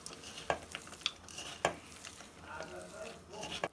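Turmeric, baking soda, salt, green chili and onion worked together into a batter for mustard-flower fritters, with soft wet stirring and a few sharp utensil clinks against the bowl, close by and fairly quiet.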